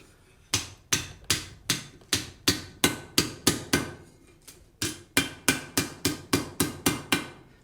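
A hammer strikes a hot horseshoe on an anvil while a door handle is forged, about twenty sharp ringing blows in a quick steady rhythm, close and loud, with a short pause midway.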